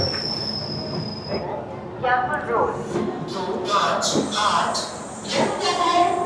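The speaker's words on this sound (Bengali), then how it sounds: "এই ট্রেনটা কিন্তু এখান থেকে ছেড়ে চলে যাচ্ছে বানারসের দিকে" An Amrit Bharat Express pulls out of Varanasi Junction, its wheels squealing and carriages rumbling and clacking loudly nearby, with people talking over the departing train.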